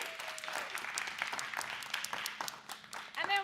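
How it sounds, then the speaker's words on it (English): Audience applause at a kids' tech competition qualifier, steady dense clapping from a crowd at moderate distance, with a voice briefly speaking over it near the end. "So let's give them a round of applause, please."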